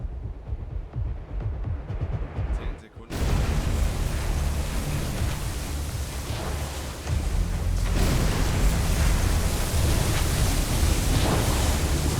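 In the WW2 submarine game UBOAT, torpedoes strike an escort carrier with a sudden heavy blast, then a sustained deep roaring rumble that swells again partway through and stays loud to the end. No one speaks.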